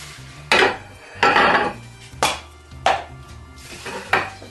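Clattering knocks from greasing a metal donut cavity pan in a home kitchen, about five sharp, close bangs and scrapes at an uneven rhythm, with no talk over them.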